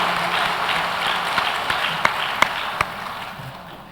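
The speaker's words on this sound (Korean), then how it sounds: "우리 박수 자축합시다." A church congregation claps on its founding anniversary Sunday. The applause is a moderate, steady wash that fades toward the end, with a few sharper individual claps standing out.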